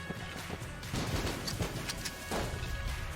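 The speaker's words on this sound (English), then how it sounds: "We have some pretty cool RPG explosions though." RPG explosions in the Enter the Gungeon video game make a dense run of booming blasts and crashing hits, loud and continuous, layered over game audio.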